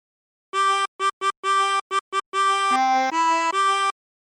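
Tremolo harmonica playing a phrase of What Shall We Do With the Drunken Sailor, a run of clear reedy blown notes, some short and detached, others held, at a steady rhythm with a few pitch changes near the end, alone.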